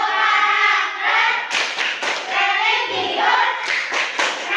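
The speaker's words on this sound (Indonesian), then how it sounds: "kita melakukan tepuk karakter terlebih dahulu" A school class claps out a rhythmic character chant together, several loud bursts of group hand claps with thuds in a patterned beat, close and lively, with children's voices faintly mixed in.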